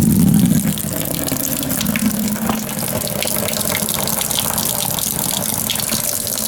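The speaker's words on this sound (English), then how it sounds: "So it's very easy to let the water out of one of these reactors." Water gushes steadily out through a single drain valve on a PVC wet-cell oxyhydrogen (HHO) electrolysis reactor, a continuous close rushing flow with a brief lower gurgle at the start.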